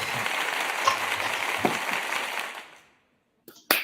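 A remote audience gives a round of applause, a broad, even wash of clapping that fades to silence, with a couple of brief sounds afterward.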